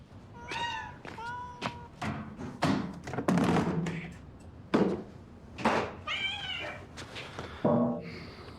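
A kitten about to be bathed in a tub or sink gives a series of high, close meows, mixed with soft thumps and handling knocks; meows return in bursts throughout.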